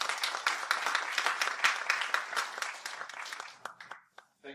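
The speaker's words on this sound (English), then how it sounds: "So let's welcome Jacco with a big round of applause." Audience applause welcoming a speaker to an evening lecture, a burst of clapping that thins out toward the end into a few scattered claps.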